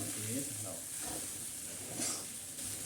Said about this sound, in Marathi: हलाव सगळं मिक्स करून दे त्याच्यामध्ये व्हाईट मसाला नको आहे पूर्ण हळद मिक्स झाली पाहिजे